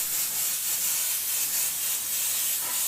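An airbrush blows a steady, soft hiss of compressed air through its nozzle, close and continuous with no other sounds.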